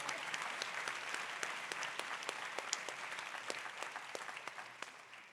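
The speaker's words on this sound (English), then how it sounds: "Let's give her a well-deserved round of applause." Steady round of applause from a luncheon audience honoring a woman named Brenda, dense and continuous with a few sharper claps standing out, holding at a fairly even level before easing slightly at the end.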